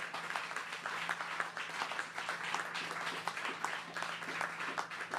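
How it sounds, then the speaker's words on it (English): Audience applause at a 2021 federal election speech, a steady dense wash of clapping from a crowd, sustained evenly throughout with a faint low hum underneath and no talking over it. "Let's give them a round of applause."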